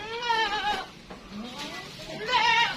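PE (Peranakan Etawa) goats in a pen give wavering, nasal bleats, one call near the start and another near the end, fairly close and clear.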